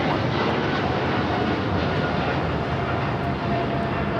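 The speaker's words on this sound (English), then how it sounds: "This is British Airways 280 taking off to London Heathrow on the 777 300ER." A British Airways Boeing 777-300ER takes off at Los Angeles International Airport, its jet engines a loud, steady, broadband roar that holds without a break through the whole stretch.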